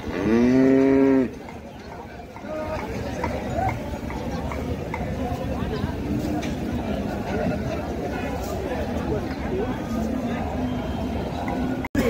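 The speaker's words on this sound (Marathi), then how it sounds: "जातीवंत पंढरपुरी म्हैस आहे." A purebred Pandharpuri buffalo in Kacharewadi, Mangalwedha taluka, lets out one loud, close moo lasting about a second at the start, followed by steady crowd chatter and people talking.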